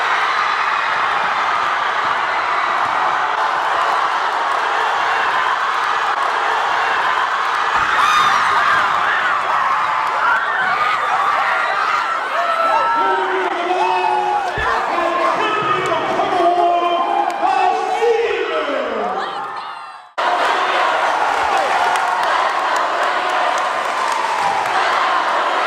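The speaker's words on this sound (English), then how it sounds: "You hear the crowd like rise up." Crowd at the Leavitt Winter Carnival 2018 competition swells into cheering and shouting, a steady roar that builds over many seconds, cuts off abruptly, then resumes just as loud.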